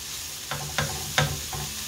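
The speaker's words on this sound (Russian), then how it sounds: "Вот так вот у нас все тушится, обжаривается." Food stewing and frying in a pan for a squid salad, with a few soft scrapes of stirring rising over a steady low sizzle.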